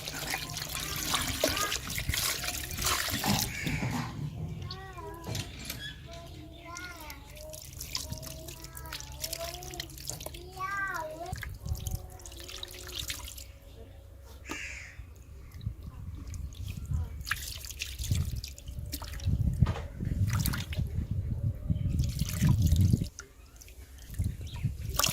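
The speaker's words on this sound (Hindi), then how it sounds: "अब इसको हम धो लेते हैं।" Raw fish is rinsed in water for a desi-style fried fish recipe, with soft trickling, dribbling and splashing throughout and occasional louder sloshes, alongside intermittent voice sounds.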